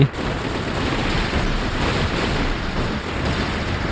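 Robots trade sustained gunfire in War Robots, a dense, continuous loud roar of rapid shots with no clear breaks.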